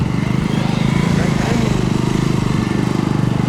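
A Bajaj Dominar 400 motorcycle rides a tight gymkhana course at the MGKC 2024 competition, its engine droning steadily with a continuous low throb, fairly loud and close, while a commentator talks over it.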